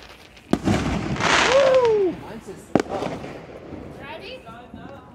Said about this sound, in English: There's some fireworks going on out here somewhere.